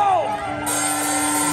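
A concert crowd at a live Southern California beach party show whoops and cheers in one sustained, loud wall of voices from many people.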